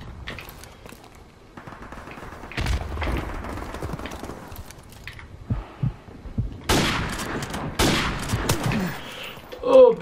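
Game gunfire from Call of Duty Modern Warfare Remastered in a free-for-all match: scattered shots and bursts of varying loudness, some distant and some close, over a dull background hum of game ambience.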